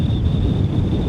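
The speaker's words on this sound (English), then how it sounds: "we can get out of the wind here for a second, maybe" Strong wind on a mountain pass at Loveland Pass near Mount Sniktau buffets the microphone in a dense, continuous low roar for about a second, with no voices.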